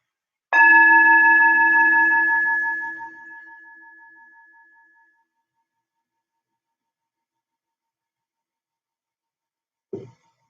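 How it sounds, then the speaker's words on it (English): A meditation bell is struck once and rings out with a clear, sustained tone that slowly fades over several seconds into silence, followed by a brief soft knock near the end. "Follow the sound of this bell."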